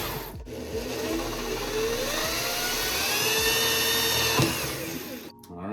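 A power drill whines steadily as it bores holes through a skateboard deck for mounting a skid plate, a close, continuous high-pitched drone with brief breaks at the start and finish.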